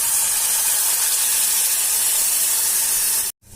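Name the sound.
tamarind juice poured into hot tempering, hissing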